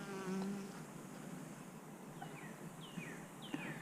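Honey bees buzzing around an open hive during an inspection, a soft continuous drone with a few individual bees whining past, faint and steady with no talking.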